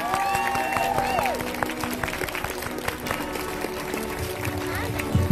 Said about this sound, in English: Can we get a huge round of applause for our fifth graders?